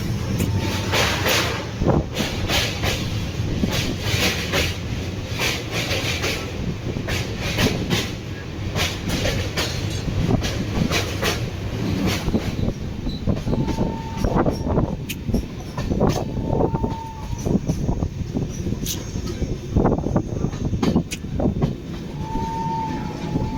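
Sachkhand Express rolling into Mohali station in Punjab, with steady rumble and rhythmic clatter of the carriages, sharp track clicks, and several short horn-like tones toward the end.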